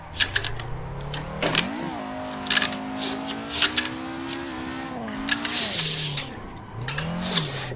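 A car drifts around Ebisu School Course in the racing game Assetto Corsa, its engine droning and rising in pitch with throttle blips, gear shifts and shift-change pops, tires chirping, held close and steady throughout.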